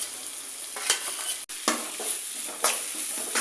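Mashed boiled potatoes fry in a kadai for a poori potato kurma, giving a steady hiss of oil and a few soft scraping stirs, close and without any voice.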